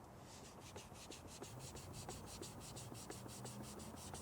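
A hand applicator pad rubs over a scratch on a car's paint with quick, even back-and-forth strokes. The scrubbing is soft and close, and no one speaks.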